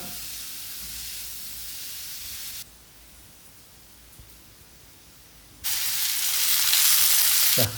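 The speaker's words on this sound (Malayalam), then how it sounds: "നമുക്കിതാ വെളിച്ചെണ്ണ ഒഴിക്കാം ചട്ടിയിൽ ഇനി ഉള്ളി പച്ചമുളക് അത് അരിഞ്ഞത് നമുക്ക് വഴറ്റിയെടുക്കാം" Chopped onion and green chilli sautéing in coconut oil in a pan, a steady close frying hiss that drops away to near quiet partway through, then returns louder and brighter.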